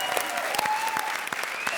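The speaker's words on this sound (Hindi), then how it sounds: "बजा ताली" An audience on a TV comedy show claps in loud, dense applause, steady crackling hand claps filling the short moment.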